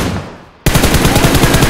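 Rapid automatic gunfire erupts suddenly after a quiet lead-in and continues in a loud, dense burst as a player shoots an enemy in a video game.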